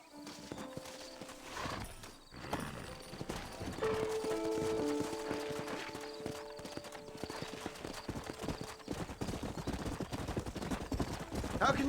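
Steady clip-clop of horse hooves in the video game Red Dead Redemption on Nintendo Switch, over a busy game soundscape, with scattered gunfire-like bursts and tonal music lines throughout.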